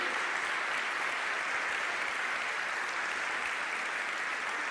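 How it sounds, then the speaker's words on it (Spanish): A church congregation applauds steadily, a dense, even wash of clapping that holds at a constant level for several seconds with no talk over it. "Bien fuerte ese aplauso."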